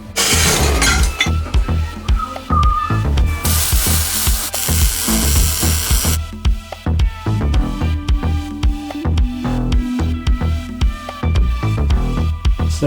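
Cutting down an exhaust pipe during a drift car build: loud, dense metal-cutting noise with sharp grinding and clinking bursts, a bright sustained screech in the middle, continuous throughout with no talk.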